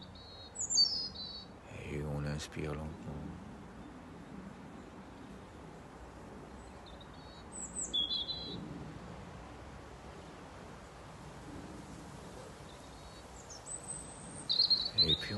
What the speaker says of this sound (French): J'écoute le chant des oiseaux.